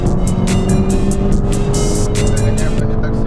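A tuned 300-horsepower Skoda Octavia races flat out, its engine droning loud and steady with a gritty, sustained roar and bursts of rushing noise, heard from close by throughout.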